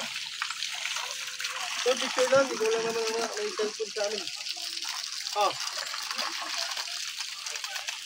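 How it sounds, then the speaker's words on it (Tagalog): Cold spring water from the mountain flows and trickles steadily at a campsite pool, a soft continuous wash with occasional splashes, while people talk and exclaim nearby over it. "Bukal yung tubig dito, galing sa bundok."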